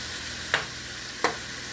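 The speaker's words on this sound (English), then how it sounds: "Everything's sizzling" Onions and New York strip steak fry in a pan with a steady, close hiss, broken twice by brief louder scrapes of stirring.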